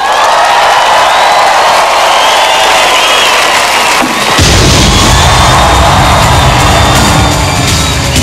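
Booming fireworks burst and crackle loudly above a cheering crowd at a casino opening, the noise swelling into a dense, continuous barrage partway through.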